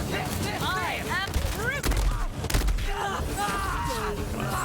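Gunfire from an electric-element weapon in Borderlands 3, a burst of sharp shots and booms mixed with game effects and chirping tones, loud and close, with a player's voice talking over parts of it.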